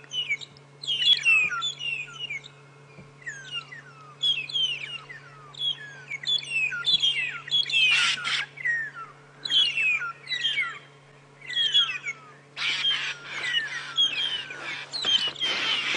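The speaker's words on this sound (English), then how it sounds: "Oh, they're being attacked by Birchall starlings." Burchell's starlings on an early-morning safari drive give a run of bright, repeated chirps and whistling calls, some bursts harsher and clustered, over a faint steady low hum.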